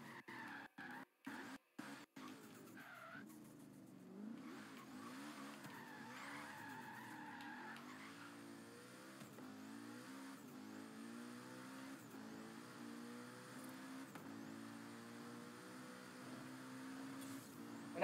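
A car drifts in the video game Forza Horizon 3, engine revving and tires squealing in long sustained skids after a few short bursts at the start, at moderate volume with no talk.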